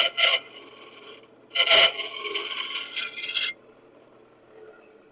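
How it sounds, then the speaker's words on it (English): Box scraper cutting wood on a spinning lathe, two rasping scrapes, a short one then a longer sustained pass of about two seconds, close and fairly loud, followed by quiet motor hum. "I'll start off with my box scraper"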